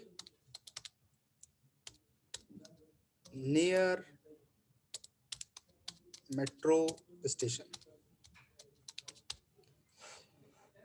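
Someone types an address on a computer keyboard, fast clusters of light key clicks with short pauses throughout, while someone speaks briefly in between.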